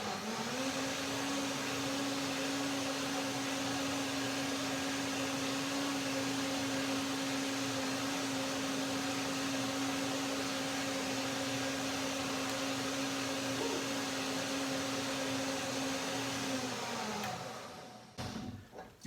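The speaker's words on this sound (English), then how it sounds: "when I blend one more time to make it creamier" A blender making a fruit smoothie runs continuously at steady speed with a loud whirring motor hum, then winds down near the end.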